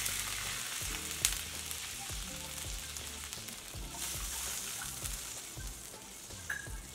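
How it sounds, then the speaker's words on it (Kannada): Poha frying in ghee for a jaggery poha kheer, a steady close sizzle and crackle with soft stirring scrapes running throughout. "ತುಪ್ಪದಲ್ಲಿ ಚೆನ್ನಾಗಿ ಹುರ್ಕೊಂಡಿರೋದು ನೋಡಿ."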